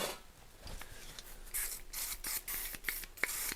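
Deep Creep penetrating oil sprayed onto a seized high-low linkage on a transfer case, several short hissing aerosol bursts close up, fairly quiet, with no talking.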